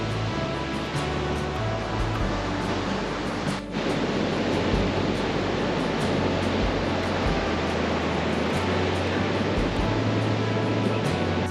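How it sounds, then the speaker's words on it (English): Big Atlantic waves pound the Portuguese coast below a fort, sending up mist: a steady, loud, roaring wash of surf that runs on without a break, with no voices. "These waves behind me, I read they can get up to 30 freaking meters high."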